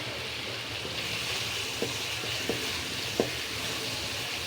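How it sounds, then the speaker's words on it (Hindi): Ground masala of turmeric, red chili and garam masala sizzling steadily in a hot pan, a continuous close frying hiss with a few light clicks of stirring. "हम मसाले को भूनेंगे अच्छे से।"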